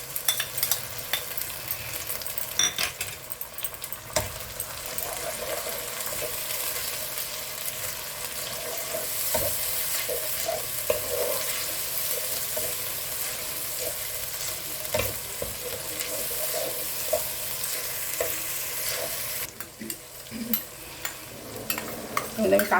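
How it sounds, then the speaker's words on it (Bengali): Ginger garlic paste sizzles in hot oil with fried onions for malai chicken curry, a loud continuous frying hiss with frequent spatula stirring and scraping close by. "এবার আমি আদা রসুন বাটা দিচ্ছি"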